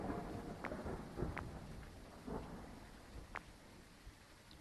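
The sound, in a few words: thunder in the video game Phasmophobia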